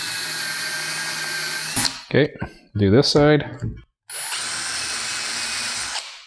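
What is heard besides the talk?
power drill with self-centering bit drilling holes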